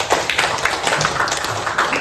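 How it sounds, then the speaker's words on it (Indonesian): A classroom group claps hands together in a short, dense burst of applause, steady and fairly loud, with no talking over it. "Aplaus tepuk tangan dulu untuk kita semua"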